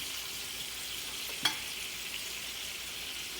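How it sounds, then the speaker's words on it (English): Bananas caramelizing in a pan give a soft, steady sizzle throughout, with one brief sharp clink partway through. "I'm going to let them caramelize for another minute."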